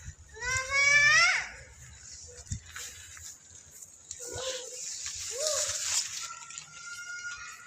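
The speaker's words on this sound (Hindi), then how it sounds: "ये 2 नंबर हमारा बकरा है।" A male goat kept for Qurbani gives a loud, quavering bleat, followed later by shorter, fainter bleats amid scattered thuds and faint background voices.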